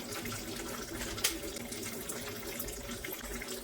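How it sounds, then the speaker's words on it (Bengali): Warm water poured into a bowl in a home kitchen, a soft continuous trickle and splash at low volume, with one small clink near the start. "বাটিতে নিয়ে নিচ্ছি উষ্ণ গরম জল।"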